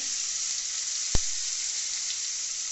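Black cumin seeds and chopped tomatoes sizzle in hot oil left from frying fish, a steady bright hiss close up, broken once by a single sharp click.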